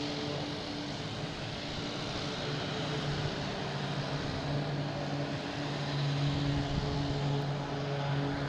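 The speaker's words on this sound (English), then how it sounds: "E175 coming in from Columbus." An American Airlines Embraer E175 regional jet arrives at Boston Logan from Columbus, its steady broadband engine roar holding close and even throughout, with a faint low hum running beneath.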